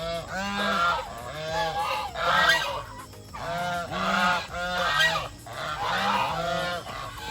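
Several geese honk repeatedly at a goose market in the Philippines, loud and close, the calls overlapping in rhythmic bursts with no talking.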